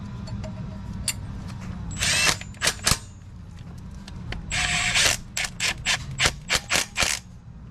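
A power tool runs bolts into a Sidewinder turbo manifold on a K-series engine in a garage, giving two longer whirring runs and then a string of short, close bursts over a steady low background hum.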